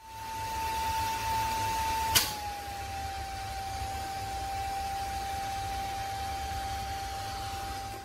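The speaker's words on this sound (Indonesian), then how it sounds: "kita bisa dengar suara kipas lampunya saat peralihan dari low beam ke high beam" A BiLED headlight's small cooling fan whirs steadily with a thin tonal whine, a brief click marking the switch from low to high beam, after which the whine settles at a slightly lower pitch.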